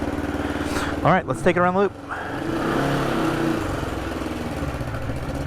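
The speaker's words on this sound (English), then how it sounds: "You can hear the noise from the left side of the exhaust." A 1975 Honda CB360T motorcycle idles with a steady, throaty engine and exhaust rumble that runs through the whole stretch, close and fairly loud, while someone talks briefly over it near the start.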